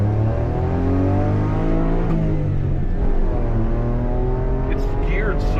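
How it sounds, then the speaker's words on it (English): A 1991 Honda Acty Sport G kei van with all-wheel drive and a 660cc engine accelerates, its close engine note climbing steadily in pitch through low gearing. "It's geared so low that actually it accelerates quite well"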